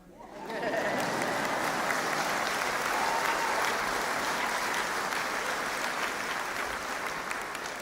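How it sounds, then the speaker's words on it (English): Steady, dense applause from a large audience at a college art school commencement ceremony in 2025, swelling quickly and holding loud and even throughout, with no speech over it. "Y'all can clap for that."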